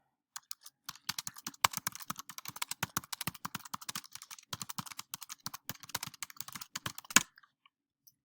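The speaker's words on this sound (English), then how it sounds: "Typing fast here." Rapid typing on a computer keyboard, a quick, dense stream of close, crisp key clicks that ends with one louder strike, heard alone in a quiet room.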